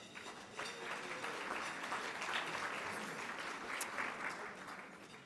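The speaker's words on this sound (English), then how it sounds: "you all deserve a round of applause" A luncheon audience at a Latino leadership plenary with the Congressional Hispanic Caucus chair gives sustained, even applause, a soft, distant wash of many hands clapping.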